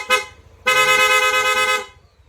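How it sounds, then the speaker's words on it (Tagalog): Stock dual horn on a Yamaha NMAX V3 scooter sounds twice: a short toot, then a longer steady blast of about a second, loud and close. "horn, dual horn setup, stock horn selector"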